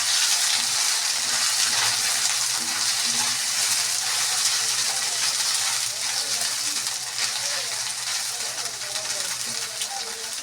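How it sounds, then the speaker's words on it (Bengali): Soybean chunks fry in white oil in a pan for a vegetarian fasting dish, a steady soft sizzle with faint stirring throughout and no pauses. "সয়াবিনটা ভাজছি সাদা তেলে"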